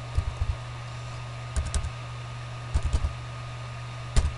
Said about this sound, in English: At the enter new elevation prompt, type 3000 on your keyboard.